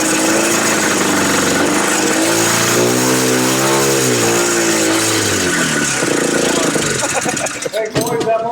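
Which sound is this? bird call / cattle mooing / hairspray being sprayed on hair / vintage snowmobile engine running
vintage snowmobile engine running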